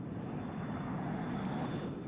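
Aircraft flying over a battlefield in the video game WARNO, a steady dense engine drone held throughout at a constant level, with no talking.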